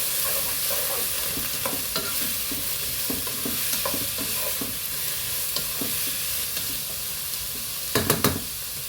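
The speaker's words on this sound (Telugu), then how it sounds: "ఇవి బాగా అంటే కొంచెం వేగాలండి" Carrot and cabbage frying in a pan, a soft steady sizzle broken by repeated scraping stirs, with a few sharper knocks near the end; no voices.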